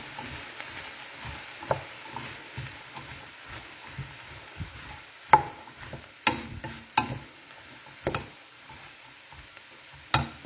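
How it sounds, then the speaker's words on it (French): Bell peppers and onions gently sautéing at half heat in a pan as sliced carrot rounds are tipped in, with a low steady sizzle broken by irregular clacks and stirring taps of a utensil. "ça fait à peu près 2-3 minutes que je fais rissoler gentiment, demi-puissance, mes poivrons avec les oignons"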